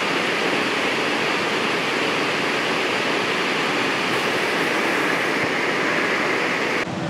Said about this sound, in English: That is a beautiful waterfall